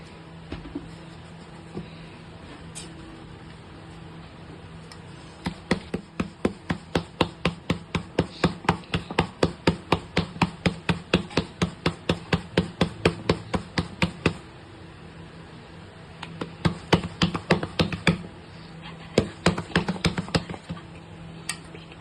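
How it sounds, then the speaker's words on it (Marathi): Bhakri flatbread dough is patted flat by hand, Sangli style, in a home kitchen: long runs of quick, even slaps, close and fairly loud, broken by short pauses, with no talk. "पण आमच्या सांगली साईडला थापून बनवतात भाकरी"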